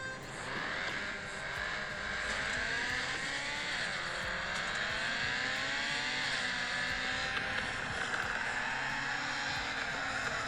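The engine of a drifting car in the mobile racing game FR Legends drones continuously with a high, wavering pitch that rises and falls as the revs change. It is loud and steady throughout, with no speech.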